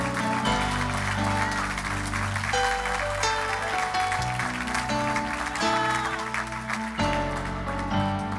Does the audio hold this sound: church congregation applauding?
yes